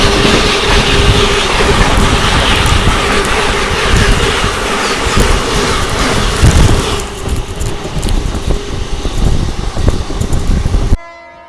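The Howrah Duronto Express passes at night, a loud, continuous roar of wheels and rail clatter with a sustained horn note that thins out near the end before stopping abruptly.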